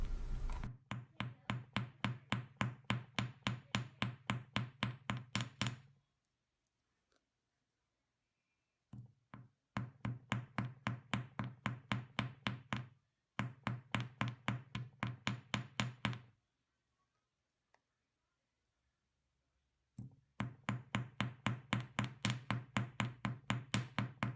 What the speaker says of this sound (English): So I'm going to finish hammering the remaining flowers.